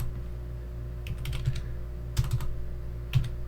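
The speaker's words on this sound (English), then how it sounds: "I could just type in Python 3." Fingers tap on a computer keyboard during Raspberry Pi 4 setup, producing a few short clusters of close, crisp keystrokes over a low steady hum.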